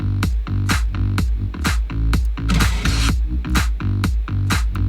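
Clap samples in an electronic dance track, sharp bright hits landing steadily on the beat over a thumping kick drum and bass in a full, loud mix.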